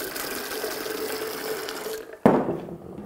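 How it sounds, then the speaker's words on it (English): Soda siphon dispensing fizzy water into a glass for a ginger drink, a steady hissing spray that cuts off, followed by a burst of bubbling liquid splashing into the glass close up. "It's coming from my soda siphon."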